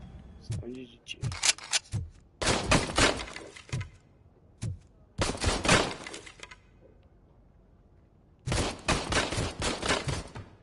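Rapid gunfire erupts in the Robocop video game in several loud, dense bursts separated by short pauses, with speech in the gaps.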